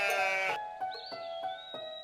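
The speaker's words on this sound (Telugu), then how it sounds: "అతడు తన మేకలను మేపుతున్నాడు." Goats bleat in a cartoon story set on mountain pastures, with one loud wavering bleat followed by softer repeated calls and a thin whistling tone.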